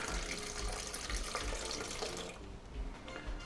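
Filtered almond milk pours steadily into a clean blender jar in a kitchen, a continuous close liquid rush that thins slightly near the end.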